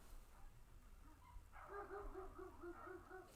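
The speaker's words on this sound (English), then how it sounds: "There's like a dog fight across the way." Dogs in a fight outside across the way, heard as a burst of repeated barks and yelps at a distance, rising from about the midpoint and continuing to the end over a low background rumble.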